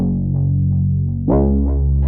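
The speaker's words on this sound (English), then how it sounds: "I just added some reverb and delay to it to add some space." A gritty synth bass holds a low note, then shifts to another with a brighter attack, its tail smeared by echoing repeats.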